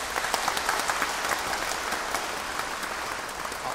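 Sustained, dense applause from a concert audience for the conductor, at a Mother's Day chorus and philharmonic orchestra concert, steady and fairly loud throughout without any talking.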